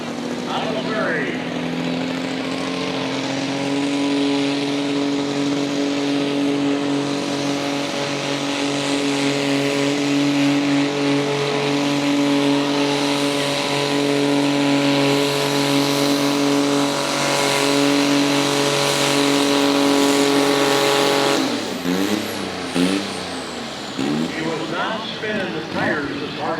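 A diesel garden tractor roars steadily at a tractor pull in Idaville, Indiana, its engine droning loud and sustained as the tires spin, then cutting off near the end as an announcer talks.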